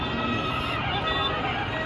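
A horse neighs in a sustained, loud whinny lasting a couple of seconds, close by, at the crowded Medaram Jatara festival.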